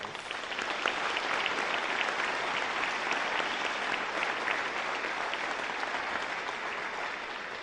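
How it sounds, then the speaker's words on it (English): A graduation audience claps in a steady, dense round of applause, sustained and even throughout with no voices rising above it. "Let's give them another round of applause."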